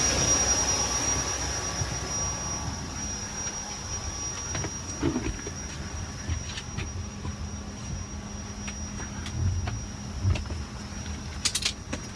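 Steady low cabin rumble inside an airliner on a short flight to New York, a continuous even drone with a few faint clicks and rustles on top, no talking.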